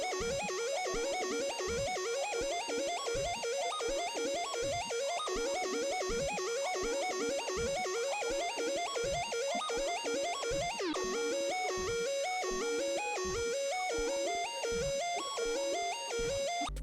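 A fast synth arpeggio cycles one chord across several octaves, with rapid repeating bright notes over a steady kick pulse in a trap-style beat, loud and continuous with no voices.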